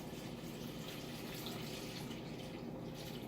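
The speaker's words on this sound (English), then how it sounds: "I'm just going to go ahead and pour this through my filter in my jar." Warm goat milk is poured through a filter into a jar, a faint, steady liquid trickle and splash with no talking.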